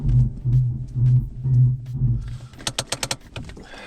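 Handbrake on a high-mileage MK5 Golf TDI is pulled up repeatedly, giving a string of close ratcheting clicks in quick bursts, over a low idling engine rumble that pulses in a slow rhythm.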